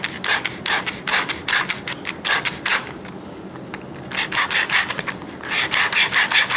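A plastic garlic cutter gadget slides back and forth in quick bursts of raspy scraping strokes, pausing briefly in the middle before resuming, close and fairly loud with no voices.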